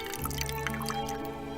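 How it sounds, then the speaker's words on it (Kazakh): The last few drops of tea trickle from a small teapot into a cup, soft and close in a quiet room over a steady low hum. "Соңғы тамшылар қалыпты."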